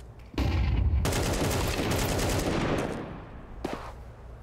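Gunfire in the video game Counter-Strike 2, a sudden loud burst of dense rapid shots that keeps rattling for about two seconds, then tails off into softer ambience with one more brief crack near the end.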